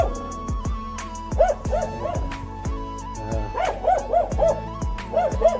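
Dogs at Api base camp in Darchula, close by, give a run of short yips and whining bark-like cries with a few soft thumps, repeating irregularly throughout without any talk.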